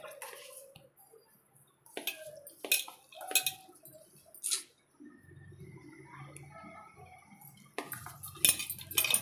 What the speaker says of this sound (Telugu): అన్నీ వేసి నెయ్యి అంత వేసి కలుపుకుంటున్నాను.